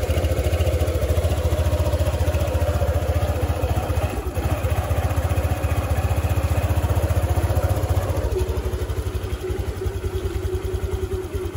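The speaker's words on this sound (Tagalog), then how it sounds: "try natin paandarin yung motor para malaman natin kung okay yung pinaggagawa natin" A Honda Click scooter idles just after a spark plug change, its small engine running close by with a steady, rapid chugging pulse and light clatter, loud and even throughout.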